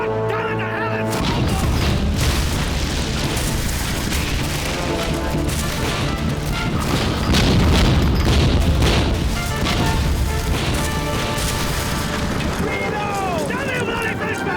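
Ship's cannon fire and explosions aboard a naval vessel in a period sea-battle drama, a dense, continuous roar of booms and crashes under music, with shouting voices over the din throughout.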